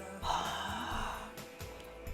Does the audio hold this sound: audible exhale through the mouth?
yes